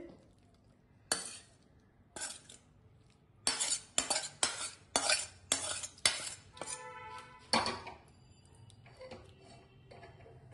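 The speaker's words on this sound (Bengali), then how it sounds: "আমার তরকারি রান্না হয়ে গেছে, এখন আমি প্লেটে সার্ভ করবো।" Metal spoon scraping and clinking against a pot and plate while long bean and potato curry is served, a series of sharp close clatters and taps in irregular bursts, with no talk.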